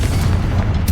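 Confringo blasting curse in Hogwarts Legacy, a single loud, close, deep boom that rumbles for about a second with no talk over it.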